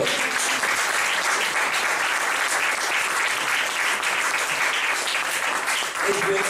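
A church congregation claps during a French-language sermon, the applause dense, continuous and steady from start to finish.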